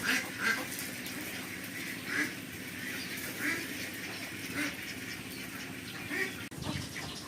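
A flock of domestic ducks kept as poultry quacks in repeated nasal bursts at a steady rhythm, moderately near against a constant outdoor background.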